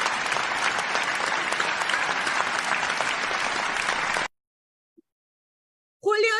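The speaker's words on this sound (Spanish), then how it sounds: "Anita, los aplausos" An audience at a Spanish-language human rights and criminal law event applauds the winner of a book prize, thick, even clapping from a crowd for about four seconds that cuts off into silence before a single voice briefly speaks.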